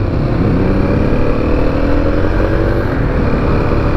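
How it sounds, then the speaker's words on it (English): A 2021 Kawasaki KLX300 single-cylinder dirt bike runs under way, a loud continuous engine drone with rumbling wind buffeting, steady with no voices. "This is a very interesting thumper."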